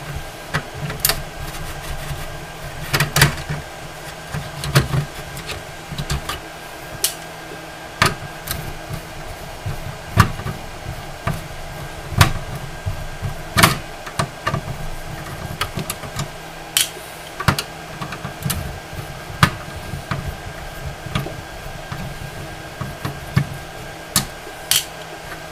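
Screws being removed during the teardown of an original Nintendo console give scattered sharp clicks and small taps from tools and parts. They sound over a constant low background hum throughout.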